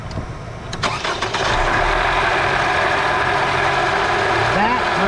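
A 2017 Lexus NX200t F Sport engine with a worn water pump bearing cranks and starts, then settles into a steady, close idle carrying a faint bearing whine, with a brief voice near the end.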